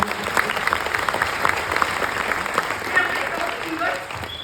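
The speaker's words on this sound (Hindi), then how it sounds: "सबसे पहले तो मैं उन 2 लोगों के लिए जोरदार ताली" A crowd at a Mumbai community event breaks into loud, sustained applause, thick continuous clapping with a few sharper claps standing out, tapering a little at the close.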